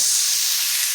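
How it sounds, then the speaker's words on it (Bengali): Slices of bitter gourd sizzling in hot oil left from frying tilapia, an intense continuous hissing crackle, close and loud, easing slightly toward the end without any voices. "এখন ওই তেলেই আমি উচ্ছেটা হালকা করে ভাজা করে নেব।"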